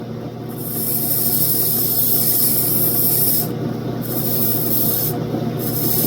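Rough opal is ground against a wheel while its edge is shaped, making a continuous close gritty rubbing hiss that briefly lightens and changes character as the stone is lifted and repositioned.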